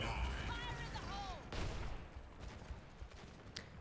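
Overwatch match gunfire crackles in scattered bursts amid whooshing ability effects, moderately loud, with a sharp impact midway and sporadic shots afterward.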